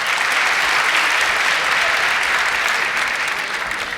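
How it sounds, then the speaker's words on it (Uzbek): An audience at a quiz show claps in steady, even applause that holds at full strength for a few seconds. "Qarsak chalib qo'yinglar"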